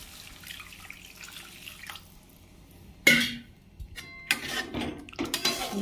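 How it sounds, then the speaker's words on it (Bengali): Water poured into frying spice paste for an egg and red lentil curry, a sudden hissing splash that starts loud and then settles into bubbling and sizzling, near and alone with no talk. "এরপরে এতে জল দিয়ে দেব।"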